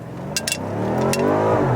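A BMW M5 F90 launches hard from a standstill, its engine note climbing steadily in pitch and loudness as it accelerates, with a few sharp clicks at the start.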